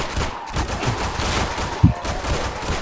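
Sustained rapid gunfire in a futuristic zombie shooter video game, a dense, loud, continuous rattle of shots with one sharper, punchier blast near the end.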